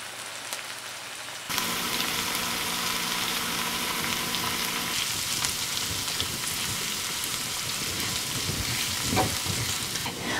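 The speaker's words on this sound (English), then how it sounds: "keep it on a low heat and just stir them occasionally and keep them moving around the pan so that they evenly brown" Onions caramelizing in a pan over low heat, a steady dense sizzle that starts abruptly and carries on throughout, with occasional scraping stir sounds close by and no talking.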